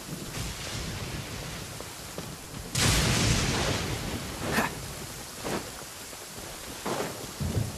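Steady rain hisses throughout in the video game Genshin Impact, with several sudden louder bursts and rumbling crashes breaking through at intervals.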